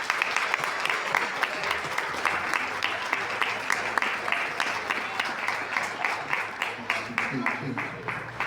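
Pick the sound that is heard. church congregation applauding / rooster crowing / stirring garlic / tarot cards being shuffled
church congregation applauding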